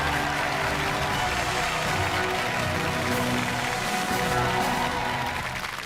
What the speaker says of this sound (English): Another round of applause for Lucy.